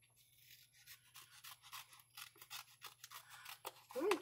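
Scissors snip through folded paper in a steady run of short, crisp cuts, close and fairly quiet, with a brief rustle of paper at the end.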